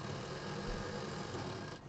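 A sewing machine runs a final line of stitches through silk fabric for a small party mobile purse, a quiet, even whirring hum that continues steadily and then cuts off abruptly.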